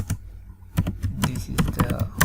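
Quick bursts of keystrokes on a computer keyboard while HTML code is entered, close and crisp with brief pauses between clusters.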